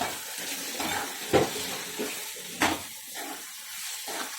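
Onion, chili, garlic, hing and turmeric masala stirred and frying in a pan, with a steady soft sizzle broken by a few sharp scraping stirs and clanks close by; no talking.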